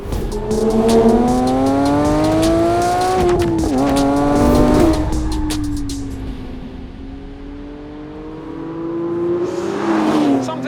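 A high-revving Porsche 992.2 GT3 sports car engine screams through rising and falling gears, then drops to a lower drone before climbing again, loud and close.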